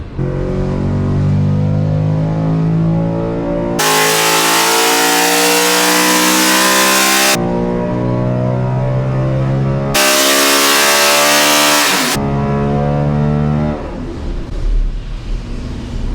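A NASCAR racing engine on a dyno revs hard, climbing in pitch several times with two bursts of extremely loud, harsh high-RPM roaring in between, then settling back down; close, continuous and without talk.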